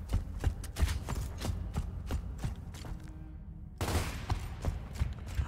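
Gunfire in the video game Gears of War, sharp repeated shots in uneven bursts with short gaps, one brief pause and a louder rattling stretch near the end, no speech over them.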